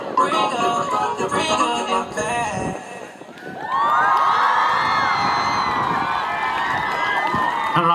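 A school audience claps, cheers, whoops and shouts loudly after a students' dance performance, with children's voices rising into a strong sustained roar.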